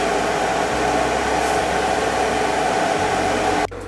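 An electric kettle runs on a Maxxter AYG5-3KW backup power system, giving a steady, loud rushing hiss that continues unbroken before cutting off with a click near the end.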